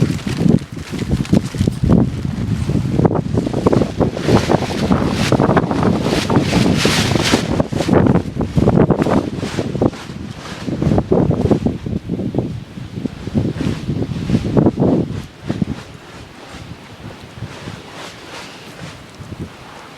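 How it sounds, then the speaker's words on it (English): Strong wind blows outdoors on a stormy day, buffeting the microphone in loud, rumbling gusts that surge and ease, dropping to a softer rush near the end. "It is a very windy day today."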